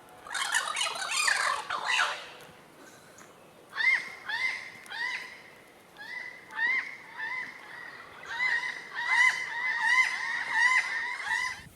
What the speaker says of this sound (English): the noisy chattering Cuban crows